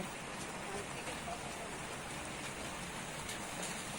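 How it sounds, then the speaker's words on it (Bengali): Light rain falls outside a house at midday, a faint, even hiss of drops that runs steadily throughout with no distinct breaks. "হালকা হালকা বৃষ্টি পড়ছে বাইরের দিকে"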